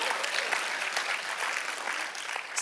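A room full of people gives a warm round of hand clapping, dense and steady with a few sharper claps poking through, tapering slightly near the end, no talking over it.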